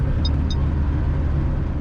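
A Moskvich car engine pulling steadily in fourth gear with the pedal pressed down during the Monte Carlo rally, a loud continuous low drone and road rumble heard from inside the car with no breaks.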